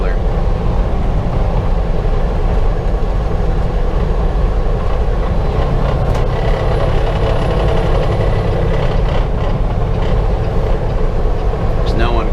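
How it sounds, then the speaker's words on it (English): Heavy haul rig on the road: a 4-axle Kenworth truck pulling a 9-axle oversize trailer, with a loud steady rumble of engine and rolling tires throughout. "it's being pulled by a 4-axle Kenworth"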